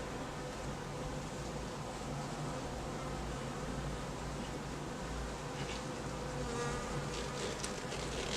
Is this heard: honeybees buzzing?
yes